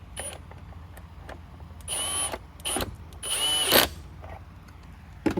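Cordless drill on its lowest clutch setting driving screws into the plastic housing of a Bissell PowerForce Helix Turbo vacuum, several short whirring bursts of varying length separated by quiet pauses, close and moderately loud.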